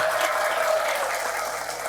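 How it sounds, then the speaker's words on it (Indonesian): An audience at a village cleansing ceremony (bersih dusun) in Ngroto, Kismantoro, Wonogiri applauds the district head, a short burst of steady, close clapping. "Tepuk tangan dulu buat Pak Camat."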